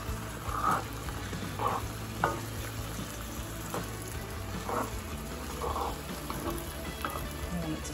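Onion maple chutney with lemon juice sizzles and bubbles in a pot as it is stirred and brought to a boil, with soft scraping stirs recurring every second or so over a steady low simmer.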